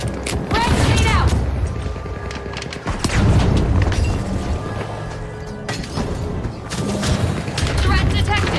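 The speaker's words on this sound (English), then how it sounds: "Frag grenade out!" A frag grenade blast in the video game The Finals, with loud booming detonations and rumbling bursts spread through the scene, mixed with clattering game sounds.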